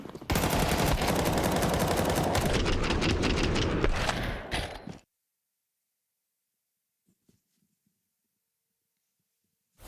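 Rapid rifle spray fire from several players in a Counter-Strike match, loud and dense with overlapping bursts for about four seconds before cutting off abruptly into near silence with a few faint distant clicks.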